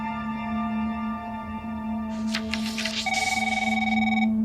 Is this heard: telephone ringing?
yes